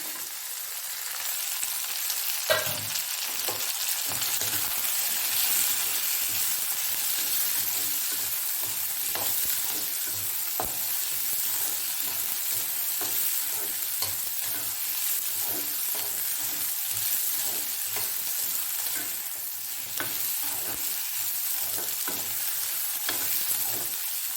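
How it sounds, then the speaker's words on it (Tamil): Brinjal sautéing in hot oil for a kathirikai kosthu side dish, a continuous loud sizzle with frequent spatula scrapes and taps as the pieces are stirred, no one speaking. "இதில் கத்திரிக்காய் போட்டுக்கலாம். இந்த நேரம் அதுவும் நல்லா வதங்கணும்."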